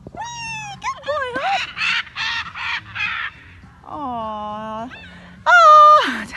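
A pet hyacinth macaw gives loud, harsh, raspy calls in a series of bursts, close to the microphone, with a long drawn-out squawk and a sharp final cry.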